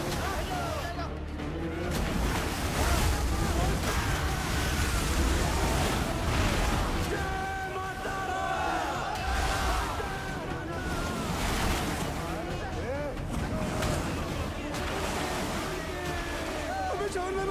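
River water rushes and churns in a loud, continuous roar with wind buffeting the microphone, a steady broadband wash with no pauses.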